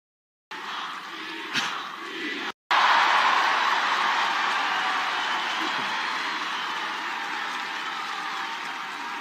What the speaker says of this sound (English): you hear how they cheering this guy, man. They're cheering Elon like Elon is the president.